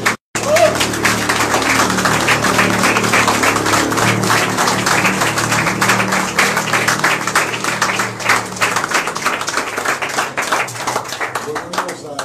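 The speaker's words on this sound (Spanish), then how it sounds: "Respiramos profundo y damos un gran aplauso al Padre." A live audience applauds at a church-style gathering, dense clapping filling the space loudly and steadily for about twelve seconds before gradually thinning, with some crowd noise underneath.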